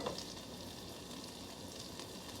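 Butter and minced ginger frying in an overly hot pan, a steady close crackling sizzle with fine popping throughout, no voices.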